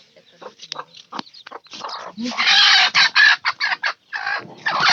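A hen with her chicks on a farm gives a run of close, uneven clucks in short bursts, with a few brief higher calls among them.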